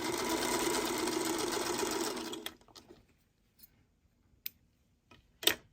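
Home sewing machine stitching pieces of a small patchwork quilt block, running steadily for about two seconds before stopping, followed by a few soft clicks and handling taps.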